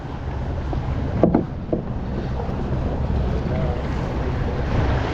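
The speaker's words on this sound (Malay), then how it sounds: "Oh, angin dah kuat lah." Strong wind roars steadily over a fishing boat at sea, a constant broadband rush with a brief thump and a few faint voices underneath.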